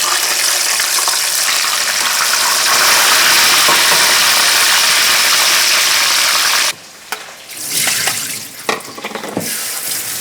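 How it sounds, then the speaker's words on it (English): A constant, busy sizzle of chicken frying in hot oil fills most of the clip. It then drops to quieter crackling and bubbling with sharp spatters. "I'm going to heat up this oil 1 minute and then refry."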